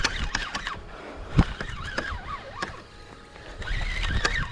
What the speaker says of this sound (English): The reel's doing that sound again now.